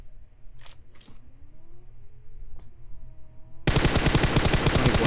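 Rapid M4 and AK gunfire in a PUBG Mobile battle royale match: a few sharp reports early on, then a loud, dense burst of automatic fire filling the last second and a half.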